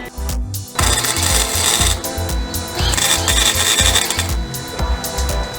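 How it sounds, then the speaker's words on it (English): Stitch welding on a truck floorboard gives loud, close, harsh buzzing bursts, each spot a short crackling burst separated by brief gaps in an uneven rhythm, with no talking. "stitch welding, where I'm just hitting spots and moving up, hitting another spot"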